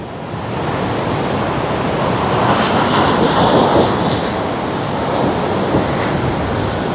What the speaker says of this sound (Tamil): கடல் அலை இங்கே வரைக்கும் வந்து போயிருக்குது.